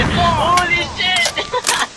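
A grenade explodes with a heavy boom in an online shooter, followed by rolling rumble and scattered gunfire, with game effects and a player's voice mixed in.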